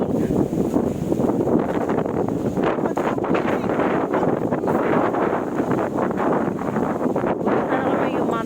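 Strong, steady wind buffets the microphone outdoors on a walk, a continuous loud rumble with gusty rustling, while people talk and laugh underneath.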